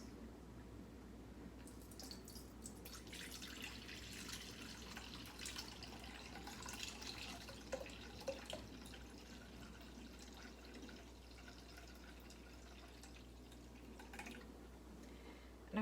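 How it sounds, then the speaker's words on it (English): Juice being poured off fermented hot sauce in a quiet kitchen: a faint, continuous trickle of liquid with occasional small drips and splashes, soft and close. "So I'm gonna pour off some of the juice."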